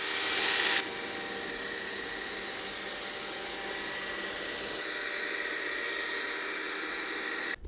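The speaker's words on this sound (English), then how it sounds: "Test number three, a Roomba." A Roomba robot vacuum runs with a steady, broadband whooshing hum that holds an even level throughout, with a slight shift in tone partway through.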